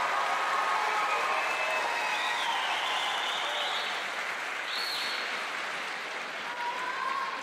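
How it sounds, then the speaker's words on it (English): Steady audience applause fills a commencement ceremony for a high school class at a concert hall, a sustained dense wash of clapping with faint whistles or cheers rising above it, holding loud throughout before easing slightly near the end. "Let's give them a round of applause."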